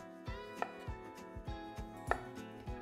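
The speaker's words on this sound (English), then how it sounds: "peel and slice them." Cooked taro being sliced on a cutting board, a steady run of soft knife chops roughly every half second with two sharper knocks among them, close and quiet, with no speech.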